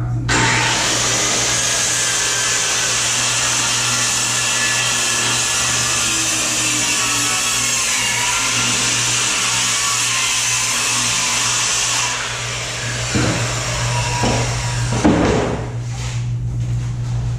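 A power saw cuts through a sheet of treated plywood during roof decking replacement, a steady loud whine running for about twelve seconds before the blade winds down, followed by a few brief clunks and handling noises.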